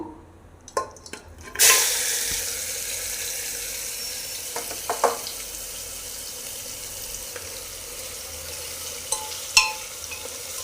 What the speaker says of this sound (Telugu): మసాలా కలిపెట్టుకున్న మటన్ ఉంది కదండి అదైతే ఇందులో వేసుకుందామండి